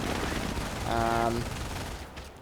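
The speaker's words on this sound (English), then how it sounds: "But now we have a machine gun here" Short burst of machine gun fire in a Company of Heroes match, a rapid run of shots in the middle of the clip over a steady battle-noise background, moderately loud.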